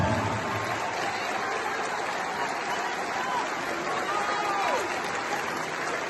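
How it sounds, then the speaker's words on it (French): Audience applause at a university gathering in Limonade, a dense, loud and steady wash of clapping that holds without a break from start to finish. "je vous demande de vous applaudir avec la plus grande puissance"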